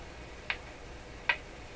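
A Rogers 11RA651 shortwave radio gives two faint, sharp ticks about three-quarters of a second apart over a quiet background hiss.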